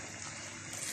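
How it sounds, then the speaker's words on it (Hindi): Water poured into a pot of mutton and peas curry (matar gosht) cooking on the stove, a steady close gushing splash lasting about a second with no talk over it. "अब पानी डाल लूंगी।"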